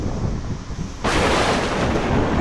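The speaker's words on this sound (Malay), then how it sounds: "Dia mai dah hujan." Heavy rain begins abruptly partway through, a sudden loud broadband downpour replacing a quieter rumbling background, with thunder-like low rumble throughout and no voices.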